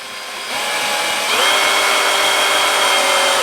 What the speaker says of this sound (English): I should have no problem using the drill for this